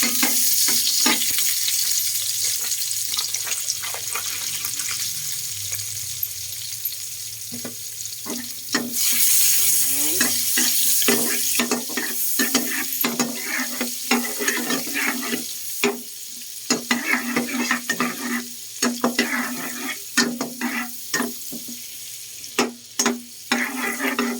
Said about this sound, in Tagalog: Tapos, ilagay na natin yung ating butter. Uy, matalsik.